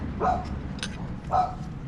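A dog on a chain outdoors gives two short, moderate barks about a second apart against a low background hiss.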